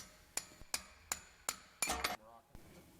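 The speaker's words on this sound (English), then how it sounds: "Drive out the anchor pins with a soft punch" Brake anchor pins are driven out with a soft punch, five sharp metallic strikes spaced about every third of a second, then a brief clatter and one more hit, close and alone.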